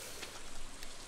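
Rain falls steadily in the Stardew Valley farming game, a soft, even patter with a few slightly louder drops and no voices.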